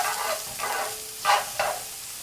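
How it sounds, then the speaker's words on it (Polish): Garlic and onion frying in a pan while being stirred, with a few close scraping strokes over a soft continuous sizzle and no talk. "pamiętajcie, żeby nasz czosnek razem z cebulą sobie jednocześnie mieszać"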